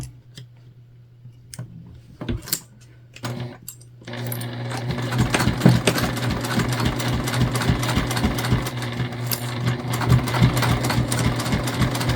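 A sewing machine runs steadily through the thick, layered fabric of a gusseted bag, its rapid stitching loud and continuous after a few short starts and stops.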